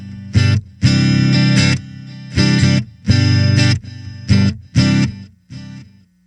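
Acoustic guitar played through a Line 6 POD GO with only delay, loud and close: strummed chord bursts in an uneven rhythm, each ringing on with repeating echoes into brief gaps.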